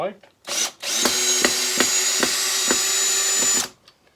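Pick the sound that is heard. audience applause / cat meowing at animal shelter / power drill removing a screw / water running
power drill removing a screw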